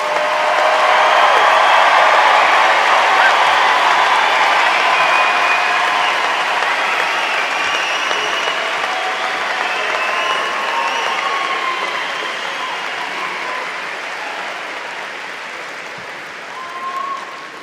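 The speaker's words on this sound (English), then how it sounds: "Please give us one more round of applause for our Rocky Mountain High School graduates." Sustained applause from a large audience at the Rocky Mountain High School 2023 graduation ceremony, a dense wash of clapping and some crowd noise that holds steady and tapers slightly toward the end.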